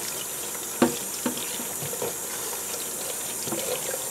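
Cold tap water runs steadily while an arboreal enclosure is rinsed, a continuous nearby splashing wash with a few sharper knocks and splatters and no speech.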